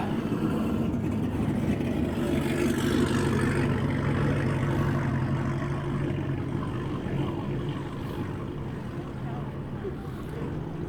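A car engine with a choppy, lumpy idle rumbles steadily at a cars-and-coffee meet in Morrisville, low and continuous, with crowd chatter and traffic noise around it.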